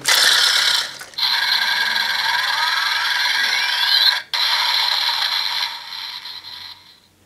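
A DX Shiny Kiramei Changer toy's electronic whirring and beeping finisher attack effects play loudly with rising sweeps as its drill spins, briefly cut off twice, then fade out at the end.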